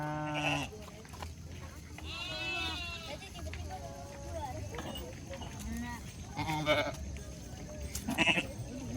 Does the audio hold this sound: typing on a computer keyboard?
no